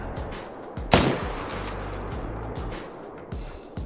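A rifle shot cracks loudly once in a hunting video game aimed at fallow deer, a sharp broadband burst followed by a fading tail over low engine-like rumble.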